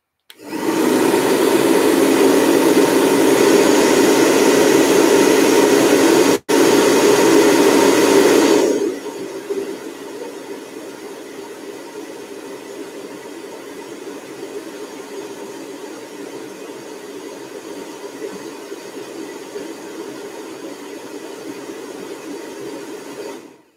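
A hair dryer blows steadily on a watercolor painting of a rural landscape, loud and continuous for about nine seconds, cut off briefly once, then switched off, leaving a faint low hum.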